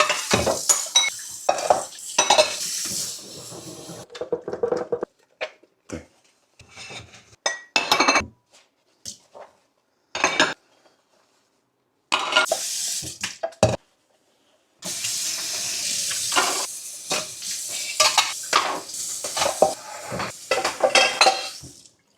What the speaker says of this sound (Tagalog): Hugasan ko na rin pala yung kanina pinagkainan ko ng egg